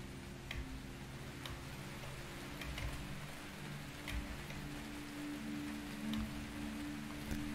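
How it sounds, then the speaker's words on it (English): Steady rain in the video game Antichamber, a continuous soft hiss with scattered faint ticks and drips over a low droning hum, fairly quiet and even throughout with no talking. "It's very rainy right here"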